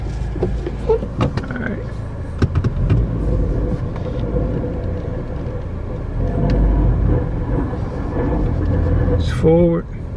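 A 2013 Nissan Sentra pulls away after being shifted into drive, with a steady low engine and road rumble, a few sharp clicks early on, and a brief rising tone near the end.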